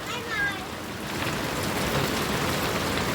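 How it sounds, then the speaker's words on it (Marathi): Heavy monsoon rain pours down in Konkan as a loud, steady, dense roar that continues without a break, with a brief voice-like sound near the start. "खूप जोरात पाऊस आहे जोराचा पाऊस"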